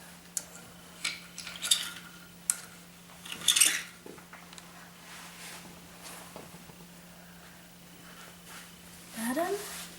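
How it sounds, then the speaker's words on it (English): A teaspoon clinks against dishes while sugar is measured in a kitchen, giving a few sharp, close metallic taps spread across the stretch with quiet gaps between them. "now we're going to put in the 2 teaspoons of sugar. So I'm going to get the teaspoon."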